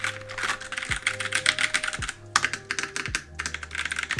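Typing on a Razer BlackWidow Lite mechanical keyboard, a quick, uneven run of crisp key clicks and clacks close to the mic, while low tones drone underneath.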